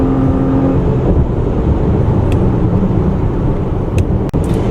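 A 2015 Toyota Highlander engine hums steadily while driving, a smooth, constant low drone with road and cabin noise heard from inside the vehicle, with a brief click near the end.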